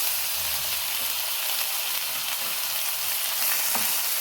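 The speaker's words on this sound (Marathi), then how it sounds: "आलं लसूण पेस्ट थोडीशी परतून घेऊया" Ginger garlic paste frying in a mix of butter and oil, a steady close bright sizzle with soft stirring scrapes throughout.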